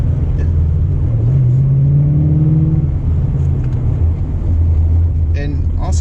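A Bullitt Mustang GT with a manual gearbox pulls away from a stop, its engine rumbling low and rising slightly in a steady drone, close and loud inside the cabin.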